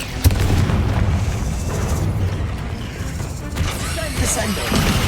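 A fiery Confringo spell explodes in Hogwarts Legacy during a rapid exchange of combat spells, giving sharp booming bursts over continuous loud, rumbling battle noise, with a voice speaking over the action.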